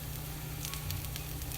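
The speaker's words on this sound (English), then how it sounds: "Cook the pancake mixture on a high heat for 1 to 2 minutes until lightly brown, which is what I'm doing now." Kimchi pancake mixture fries in oil in a frying pan over high heat, giving a continuous close sizzle with light crackles throughout.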